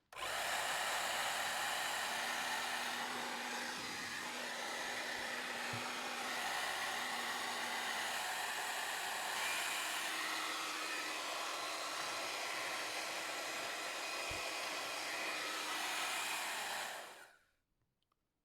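A Philips DryCare Pro BHD274/00 ionic hair dryer blows steadily with a loud, constant whoosh and motor whine for most of the clip, then cuts off abruptly near the end.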